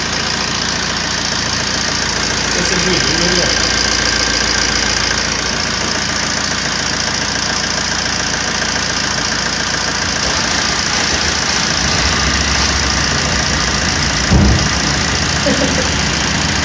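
Diesel car with a Multijet engine idling after sound-deadening work, a loud, steady close rumble with a faint knocking pulse, continuous throughout with no speech.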